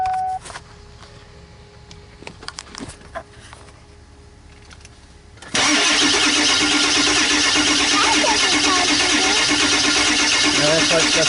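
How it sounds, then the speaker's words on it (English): A 2001 Ford E350 with a 7.3 PowerStroke diesel and 194,000 miles clicks and knocks through a stretch of cranking, then catches into a loud, rough, steady running roar, close by. "So here we're going to try and start this thing."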